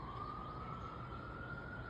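A siren drones steadily in the distance, a single sustained tone held throughout over faint background noise, no voices.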